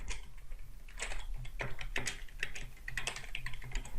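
Rapid typing on a computer keyboard while coding in JavaScript, with bursts of close, crisp key clicks at an uneven rhythm and short pauses between runs, heard alone.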